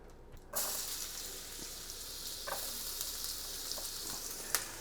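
Big chunks of onion and bread fry together in a pan, a quiet, steady hiss that starts abruptly and holds, with a few soft clicks and one sharp tap near the end.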